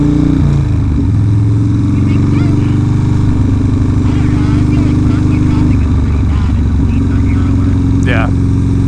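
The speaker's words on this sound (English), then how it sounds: "Don't you just love sitting in this traffic?" Steady low engine rumble from a Harley FXR motorcycle idling and creeping through city traffic, close and continuous, with occasional surrounding vehicle noise and voices talking over it.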